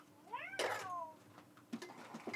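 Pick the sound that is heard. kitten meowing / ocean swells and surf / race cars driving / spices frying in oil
kitten meowing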